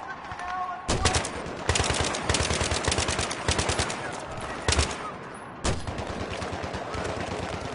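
Rapid machine gun fire in the video game Battlefield 3, loud bursts of rattling shots repeating across the whole stretch with brief pauses between volleys.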